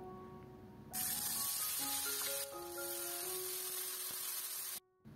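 Fish fries in hot oil in a pan: a soft steady sizzle begins about a second in and carries on, with faint sustained tones underneath.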